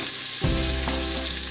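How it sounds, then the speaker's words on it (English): Onion slices hit a hot pan coated with burnt meat fat and break into a loud, steady sizzle that swells as they land, close up and continuous for the short stretch. "The pan has some burnt meat fat stuck to it, to which I will now add onion slices"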